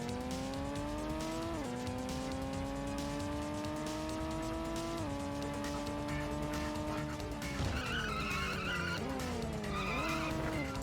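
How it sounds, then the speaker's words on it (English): Race car in the Pro Racer video game skidding, with long sustained tire squeal over a steady engine drone whose pitch dips and climbs through slides. Nobody speaks. "your car will just slide off into the undergrowth"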